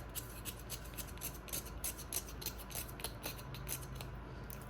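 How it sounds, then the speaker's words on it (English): Burnt char is scraped off a roasted coconut for Guyanese coconut choka, a close, quiet run of quick rhythmic rasping strokes repeating steadily, with no talk. "The fun part is to start scrape out all the char, like the blackness out of it."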